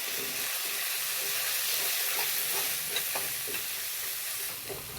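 Masala sizzles and hisses steadily in a hot pan over high heat, with faint stirring scrapes and no voices.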